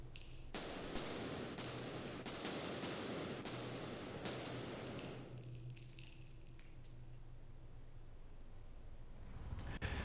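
A handgun fires rapidly during a grip drill on a range. Sharp shots come in a quick, evenly spaced burst, and a ringing tail lingers after the last round. No one talks.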